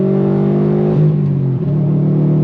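A 2018 Subaru WRX STI Type RA fitted with an AWE exhaust pulls hard under throttle, a loud, steady, close engine drone whose pitch climbs and briefly dips around a gear change.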